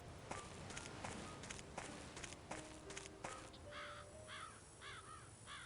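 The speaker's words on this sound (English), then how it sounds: "Another bird." Crows caw in the Agatha Christie: And Then There Were None adventure game, a run of harsh calls repeating over steady footsteps, followed by a few squawking bird cries near the end.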